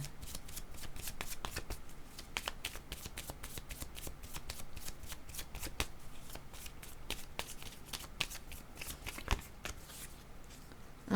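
Tarot cards are shuffled by hand in a quiet room, making a rapid, irregular run of crisp riffling snaps and flicks close up, with no voices.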